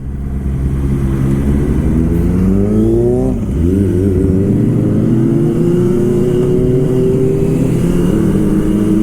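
Motorcycle with a loud aftermarket exhaust rides past on a road in Japan, a close, heavy engine drone that dips briefly and then rises as it revs and accelerates away.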